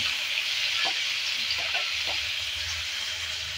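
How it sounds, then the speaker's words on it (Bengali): Chopped onion and garlic fry for karela sabji, giving a steady close sizzling hiss broken by a few soft scraping stirs in the pan. "পেঁয়াজ আর রসুনটাকে ভালো করে ভেজে নেব।"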